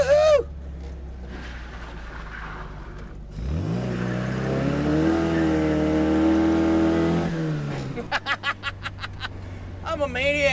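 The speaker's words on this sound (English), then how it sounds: "But I have turned it into like a little autocross car." A 1961 Austin Mini Cooper S with a 1275cc engine, set up as an autocross car, revs hard and accelerates nearby, rising in pitch for several seconds before backing off; a voice whoops and laughs around it.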